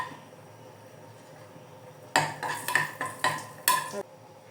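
Cashew nuts go into a pan and are stirred, starting after a quiet stretch as a run of loud clattering scrapes and knocks of a spoon against the pan for about two seconds, with no voices.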